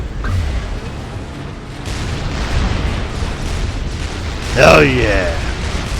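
Units blow up in the strategy game Supreme Commander 2, rumbling booms rolling beneath a man's loud, excited shouting.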